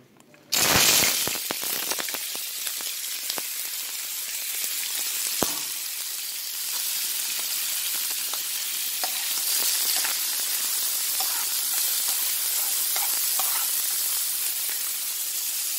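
Red herring and chopped onion hit a hot pan with a loud sizzle that settles into a steady, close, crackling hiss of frying over many seconds.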